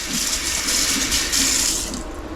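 Tap water runs steadily into a wok being rinsed out in a sink, a continuous close splashing rush with no breaks and no voices.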